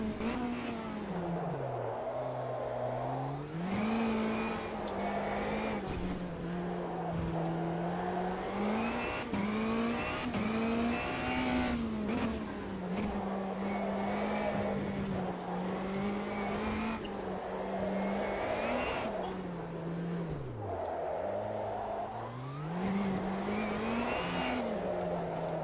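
A rallycross car in Automobilista 2 revs hard through a driving-school lap, engine pitch rising and dropping sharply with each gearshift and braking point, loud and continuous with no speech.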